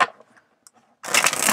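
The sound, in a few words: shuffling tarot cards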